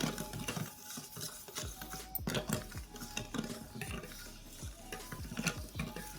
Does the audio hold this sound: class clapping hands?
no